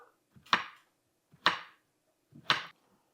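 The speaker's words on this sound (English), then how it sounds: "And then that's all the chopping that we're gonna do." A knife cuts a lengthwise-halved vegetable into moon-shaped slices for a chicken and rice casserole: three crisp, close chops land on the board about a second apart, with no talk.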